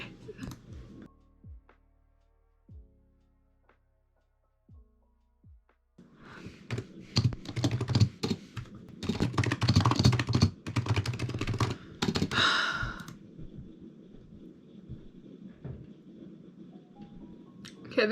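Computer keyboard typed on steadily while a book draft is written, close and clear, starting with a few scattered ticks and then settling into a rapid, continuous run of keystrokes through the rest of the clip.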